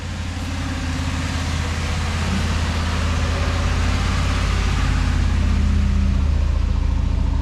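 A Ford F250 Super Duty truck climbs a gentle slope of wet sand on a Moab trail, its engine a steady low rumble that grows slightly louder, with no talk.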